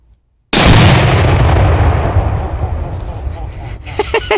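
One pound of Tannerite binary explosive detonated by a rifle shot outdoors in the cold: a sudden, very loud blast after brief silence, its boom rolling and fading over several seconds before a voice speaks at the end.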